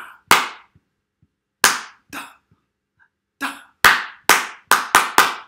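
Sharp hand claps in a call-and-response rhythm game, scattered single claps then a quick run of five loud, close claps at a steady beat, with no talking.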